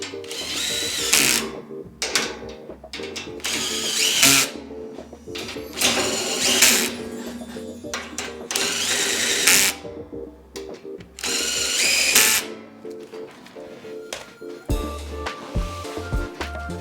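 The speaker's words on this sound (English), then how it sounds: "Take my drill." A power drill drives bolts into a Koda utility cart with pull-out tray during assembly, in several loud whirring bursts of a second or two each, separated by short pauses and light clicks of parts being handled.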